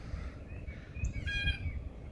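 Backyard birds at a feeder in southwestern Pennsylvania call with a few short, clear chirps and whistled notes, moderately close over a low outdoor rumble.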